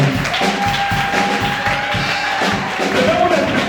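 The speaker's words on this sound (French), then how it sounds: "Je vais d'abord appeler l'homme sous une pluie d'acclamation." A church congregation cheers and applauds at a lively service, a dense, loud wash of clapping and shouts with a sustained tone running through it and a speaking voice over the top.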